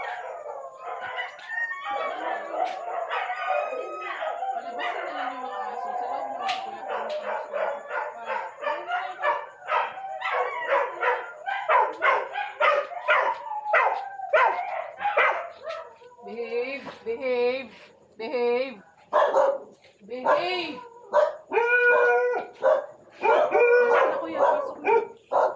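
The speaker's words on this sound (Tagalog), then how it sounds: "Ay, naku, mga aso." Dogs bark repeatedly in an uneven, busy chorus with drawn-out howls mixed in, while a rooster crows and people talk nearby in Tagalog.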